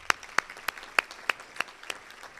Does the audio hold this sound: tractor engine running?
no